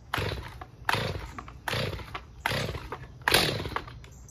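A Stihl MS310 chainsaw gets a cold start on full choke after a bone-dry tank: five evenly spaced starter-cord pulls, each a short rasping burst of engine turnover, close up, without the engine catching.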